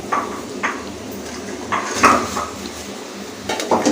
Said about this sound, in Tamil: இப்போது இதில் வந்து தட்டி வச்சுருக்க உப்பு கண்டத்தை சேர்த்துருவோம்